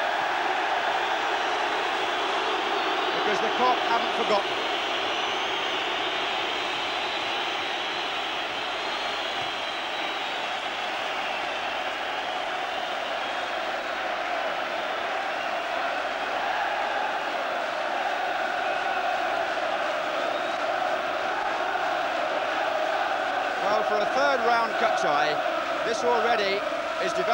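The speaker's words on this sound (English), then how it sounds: "a generous round of applause from the other" A football stadium crowd at an FA Cup third-round match between Liverpool and Newcastle United gives a long, sustained roar of applause, a steady broad wash of noise with a commentator talking over it.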